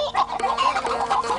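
Cartoon chickens cluck while being fed in a village yard, a short burst of quick, close clucking calls.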